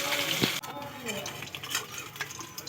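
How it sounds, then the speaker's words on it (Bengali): Fish pieces frying in oil give a steady close hiss, with a few utensil clinks and scrapes against the pan over a brief stretch. "একে একে করে আমি সব মাছগুলো ভেজে নেবো"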